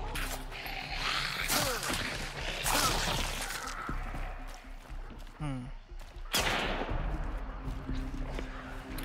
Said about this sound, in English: That is still my chaos bomb.